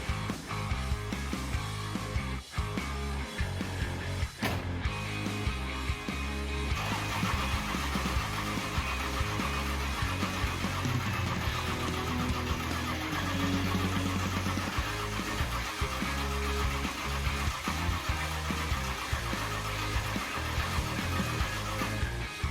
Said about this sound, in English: the only thing left to do was spin the engine over to bring the oil pressure up